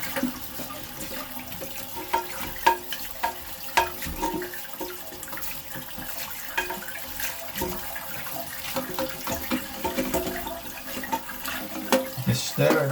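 A toilet fed by rusty, mineral-laden well water flushes with a steady rushing, gurgling wash of water over a dozen seconds, with scattered knocks and scraping from stirring inside the bowl.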